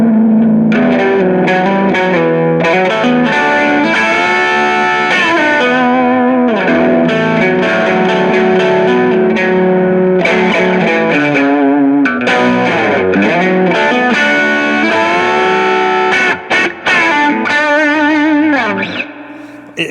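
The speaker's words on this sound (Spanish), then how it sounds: "algo importante de la Telecaster es que también estas pastillas toman la distorsión también muy bien" Distorted Telecaster electric guitar with single-coil pickups plays a continuous, loud riff of bending and sliding notes with chorus and effects, steady throughout before trailing off near the end, with no voices.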